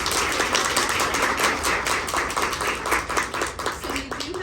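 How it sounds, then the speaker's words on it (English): An audience applauds at a living room chat session, dense close clapping that stays steady and lively for several seconds without a break. "Let's give them a round of applause."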